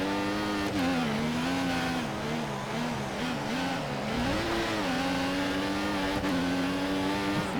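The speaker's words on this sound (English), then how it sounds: "These engines are so flat sounding" Formula 1 race car engines in the F1 2014 video game drone with a flat, steady, high-revving tone. The pitch rises and dips slightly over several seconds with no break, loud and close.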